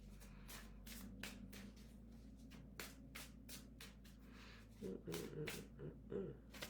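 Tarot cards being shuffled by hand during a morning astrology reading, a run of soft repeated papery riffles and slides, fairly quiet, with a low steady hum underneath and a louder handling burst near the end.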